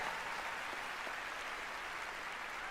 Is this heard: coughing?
no